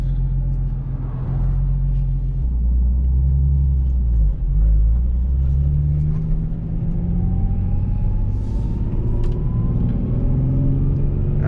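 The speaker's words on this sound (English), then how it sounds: "Let me let this truck go past real quick." A truck passing close by a Nissan 350Z NISMO idling at the roadside, a heavy low rumble that swells and then fades as it goes past, with a steady engine hum underneath and a faint whine near the end.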